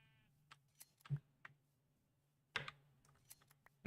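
Minecraft sheep bleat in short synthetic calls among several quick clicks and taps, faint and sparse, with no voices.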